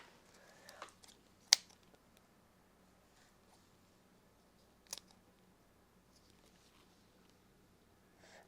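A dead plant stem snipped with a cutting tool, heard as two sharp, close clicks a few seconds apart against a quiet background, with faint handling rustle before the first cut.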